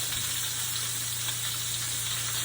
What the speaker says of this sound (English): now we can hear the crackling, crispy cracking